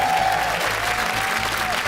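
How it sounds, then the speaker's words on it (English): Studio audience at a BBC quiz show applauding a losing team, a steady, dense wash of clapping that holds at an even level throughout, with a faint tonal hum running underneath. "Give odd one out a huge round of applause"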